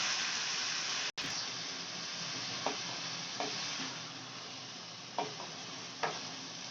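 Sliced onions fry in a pan for Mirch ka thesa, giving a faint, steady sizzling hiss broken by a few soft clicks and scrapes as they are stirred, with no voices.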